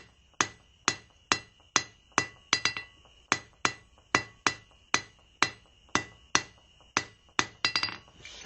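Hammer blows on hot steel while forging the taper of a fire poker: a steady run of sharp, ringing metallic strikes, evenly spaced and loud, quickening into a few closer blows near the end, with no talk.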